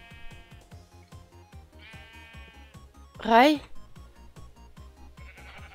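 Farm sheep in a German-language ranch video game give one loud, wavering bleat midway through, standing out over a steady rhythmic backdrop of game sounds and music, while a person speaks briefly.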